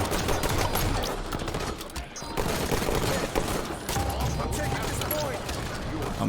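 Halo 5: Guardians gunfire: steady, rapid shooting and bursts of weapon fire, sustained through a busy multiplayer firefight with layered impacts and game noise.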